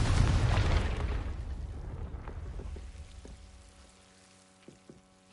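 A Confringo spell blast in the video game Hogwarts Legacy erupts as a loud, rumbling explosion that slowly fades over several seconds, followed by a few faint clicks and small pops near the end.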